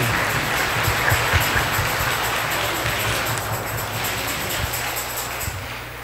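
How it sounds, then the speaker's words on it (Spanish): Wedding guests clap for the newlyweds at a church ceremony, a steady wash of applause over a low rumbling background with some thumps, fading slightly toward the end. "Un fuerte aplauso a los festejados del día de hoy."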